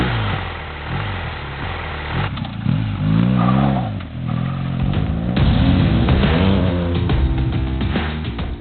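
A BMW R 1250 GS, the sporty, powerful flagship adventure motorcycle, runs loud and close, its engine rising and falling in pitch through steady revving for several seconds.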